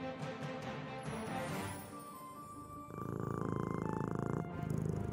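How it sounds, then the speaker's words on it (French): A soft, steady cat purr with a rhythmic rumble, close and continuous, growing fuller partway through. "Didi faisait sa ronde de nuit et passait dans la chambre de Margot et Gabi en ronronnant."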